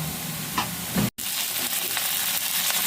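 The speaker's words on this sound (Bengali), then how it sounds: "এটা গোবিন্দভোগের চাল এবার এটা একটু আমি ভেজে নেব হালকা করে একটু নাড়াচাড়া করে নেব" Soaked Gobindobhog rice fries in hot oil in a pan, giving a steady, close crackling sizzle broken by stirring scrapes and one abrupt moment of silence partway through.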